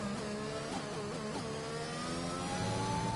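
An F1 car engine in the F1 2021 video game on the Portugal circuit, held at high revs in sixth gear on a drying wet track. It gives a steady, loud, continuous whining drone with no voices.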